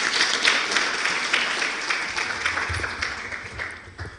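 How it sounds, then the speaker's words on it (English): Audience applauding Professor Maseko at a university and foundation partnership event, steady dense clapping filling the whole stretch at moderate level, easing slightly toward the end. "let's give Professor Maseko a round of applause"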